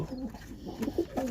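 Paired pigeons kept with their chicks coo in a run of soft, throaty calls, several rolling coos following one another close by with no talking.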